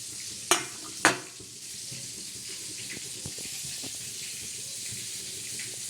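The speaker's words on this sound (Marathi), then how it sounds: "तर हे बघा आपण इथे मच्छी तळलेली कशी काढून घेतलेली आहे" Fried fish being lifted out of sizzling oil, two sharp clanks of a utensil against the pan at the start, then a continuous soft crackling sizzle with faint stirring taps.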